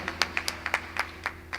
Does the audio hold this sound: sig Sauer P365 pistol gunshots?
no